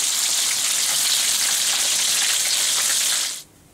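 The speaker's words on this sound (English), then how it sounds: "we finished frying up our chicken" Steady, loud sizzling of chicken frying in hot oil, a dense crackling hiss that cuts off abruptly near the end.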